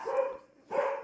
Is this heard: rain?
no